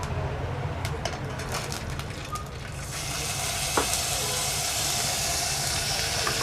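Ginger garlic paste fries in a pan, a steady hiss and sizzle that swells louder partway through and then keeps going with faint stirring clicks, no talking.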